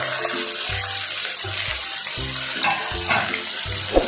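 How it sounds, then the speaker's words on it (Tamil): Ground tomato paste hits a hot frying pan for a chicken kola urundai kuzhambu, a steady close sizzle and bubbling hiss running throughout with occasional stirring scrapes. "அந்த தக்காளி அரைச்சதை இதில் சேர்த்துக்குவோம்."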